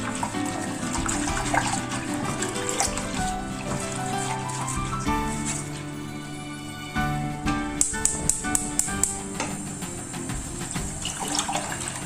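About two and a half cups of milk pour into a pot on an unlit stove, a steady liquid splashing that later gives way to a few light clinks of stirring.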